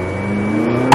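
Engine note from a 2016 McLaren 570S coupe's 3.8-liter twin-turbocharged V8 at a steady, loud drone, with a short sharp burst near the end.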